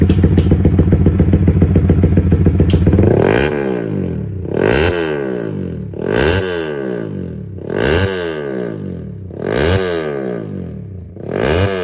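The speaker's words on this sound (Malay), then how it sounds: "Dan untuk bunyi motor RS 150 Marc Marquez, inilah bunyi dia." A Yamaha RS150 motorcycle engine idles with a rapid steady chug, then revs repeatedly in loud rising bursts, about six throttle blips, close by.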